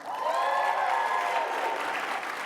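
Gala audience bursting into loud, dense applause and cheering that swells quickly, holds steady, then eases slightly.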